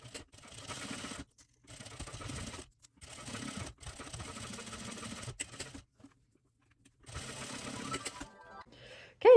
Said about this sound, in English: we are gonna go to the machine, and we are gonna stitch on the bottom first